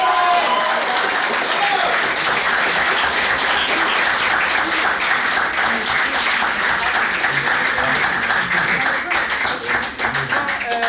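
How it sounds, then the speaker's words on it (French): A debate audience at a semi-final claps for the judges: dense, steady applause from a crowd indoors, sustained at an even level for the whole stretch and thinning slightly near the end. "je pense qu'on pourrait totalement applaudir Zoé et Maria-Inès"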